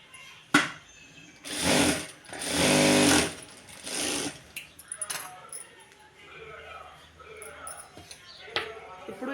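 Two bursts of a sewing machine rattle loudly and close as fabric corners are stitched together, followed by handling clatter and quieter rustling, with a voice speaking throughout.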